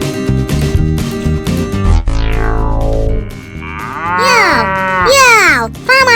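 A cow lets out a loud, close moo followed by a longer series of drawn-out lowing calls that rise and fall in pitch, with a musical backing beat underneath.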